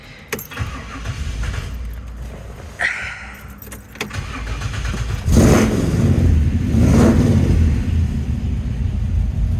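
Keys jingle and a few clicks sound as kill switches are turned on, then a 1950 Chevrolet Deluxe engine cranks and roars to life close by, revving loudly and holding a rough idle.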